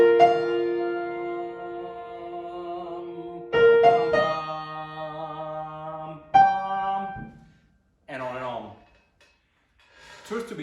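Copland's Fanfare for the Common Man played at a very slow tempo: long, held brass notes swelling and fading one after another, with gaps of near silence between phrases.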